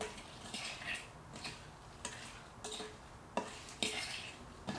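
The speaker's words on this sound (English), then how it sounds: "Mix in the rhubarb." Rhubarb is mixed in a pie crust with quiet scraping and stirring, broken by scattered light clinks and taps of a utensil against the dish at irregular intervals, close and soft.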